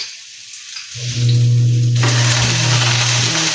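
Cooking oil sizzles steadily in a hot frying pan during a home cooking lesson, starting quietly and swelling into a loud, continuous crackle with spattering close by.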